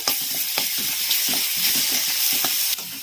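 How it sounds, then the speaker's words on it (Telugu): Ginger garlic paste is stirred into fried onions in a pan for a fish egg fry, a loud continuous sizzle broken by regular scraping strokes of the spoon, close up. "ఇందులో ఒక ఒక్క స్పూన్ అల్లం వెల్లుల్లి పేస్ట్ వేసి మళ్ళీ మిక్స్ చేసుకుంటున్నాను"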